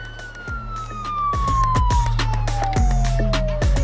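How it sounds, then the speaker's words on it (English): An electronic police-style siren from an LED light's siren mode wails with a falling tone, loud and close, mixed with rapid mechanical clicking and thumps. "And if I click to loop, light and fire, a siren."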